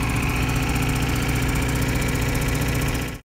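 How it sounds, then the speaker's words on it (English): A giant yellow portable generator set up for a big outdoor event on Boston Common idles with a loud, steady, close-up mechanical drone and rhythmic throb, then cuts off abruptly. "Whenever there's a big event on the Boston Common, they always bring out these giant yellow generators."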